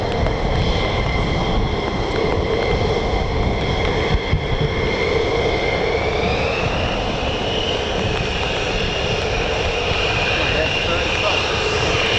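An F-15 fighter jet roars past an air base, its engine noise loud and steady throughout, with a high whining tone that slowly shifts pitch partway through.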